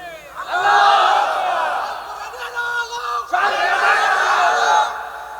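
Large crowd shouting slogans in unison at an Islamic religious gathering (mahfil) in Kushtia, loud rising battle-cry bursts in two long waves, near and full.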